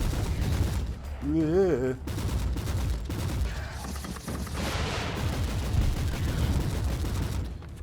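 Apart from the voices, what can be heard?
gunfire in video game Warhammer 40,000: Inquisitor – Martyr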